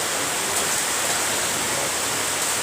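Rain falls steadily at an outdoor religious gathering, a loud, unbroken wash of hiss close by, with no speech heard over it.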